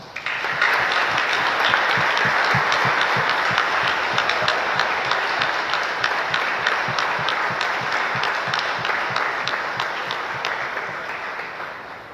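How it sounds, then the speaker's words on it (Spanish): A church congregation applauds after the final blessing of a Palm Sunday mass, with dense, steady clapping that fills the whole stretch at an even level before tapering slightly toward the end. "Les regalamos un fuerte aplauso."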